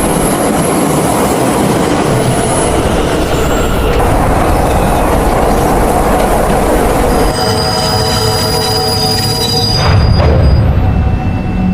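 A train rolls along the rails with a loud, continuous rumble, thin metallic wheel squeals rising above it, close by and without voices.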